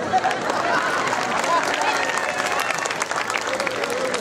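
Women in a lecture audience clapping together, a dense sustained round of applause filling the hall with scattered crowd noise mixed in.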